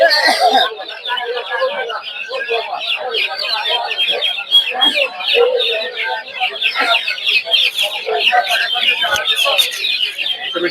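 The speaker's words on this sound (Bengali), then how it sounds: "টার্কি মুরগি দেখতে পাচ্ছেন এগুলো পনেরোশো বারোশো এরকম দাম জোড়া" Dense chatter of chickens and other birds at a busy poultry and bird market, a loud continuous jumble of clucks and calls with occasional crowing and voices mixed in.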